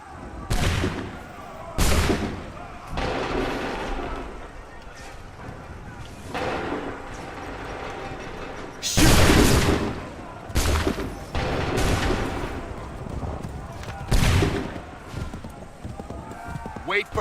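Musket volleys in Assassin's Creed III Remastered ring out as several loud, booming fusillades spaced a few seconds apart, with ringing tails and voices shouting orders in between.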